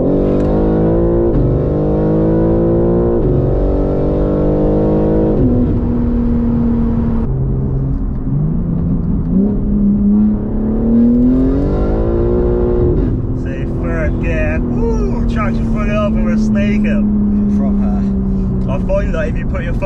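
Tuned 721 bhp rear-wheel-drive BMW G80 M3 with a Velocity Stage 2 tune accelerating hard, its engine note rising through the gears, loud and close from inside the car, with talk over it.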